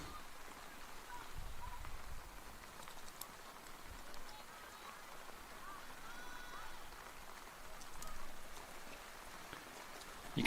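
Heavy rain pouring down at an outdoor softball game, a soft, steady patter and hiss of drops that holds throughout at low level.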